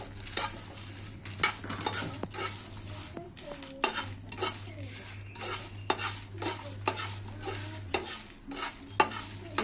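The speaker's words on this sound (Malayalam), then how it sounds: "നമ്മളിതാ അതിലേക്ക് ഇട്ട് കൊടുക്കാണ് നമുക്ക് നല്ലോണം വറുത്തെടുക്കാം" Dried chilies dry-roast in a hot pan with a sizzle, with frequent scraping and clinking of a spatula stirring, over a low steady hum, no talking.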